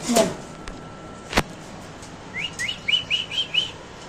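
Short, high, quick chirps from pigeons at a pigeon farm come in a rapid run of about six calls, following a couple of sharp knocks, over a quiet room background.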